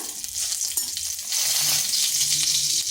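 Black cumin seeds (kalonji) dropped into hot oil for a vegetarian potol curry, a close, steady hiss of frying that swells louder halfway through, with faint low clinks, no voices.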